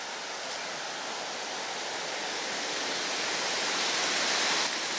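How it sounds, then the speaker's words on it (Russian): Powerful current of the Pissa river in the Kaliningrad region, a dense continuous rushing roar of fast water, close and loud, building slightly toward the end with no voices. "Блин, ну тут мощный такой поток."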